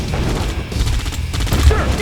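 Gunfire in the Red Alert 2 video game, shooting to destroy an ore miner: a dense, loud burst of rapid shots with low booms running throughout the short stretch, with no voice over it.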